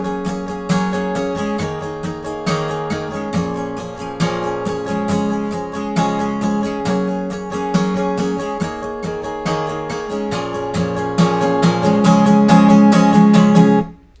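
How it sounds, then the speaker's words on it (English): Acoustic guitar strummed in a steady, driving pattern for the pre-chorus of a song, the chords ringing continuously and growing louder and more intense toward the end, with no voice. "Notice how I've picked up the intensity of that strumming pattern as the pre-chorus builds up to the chorus."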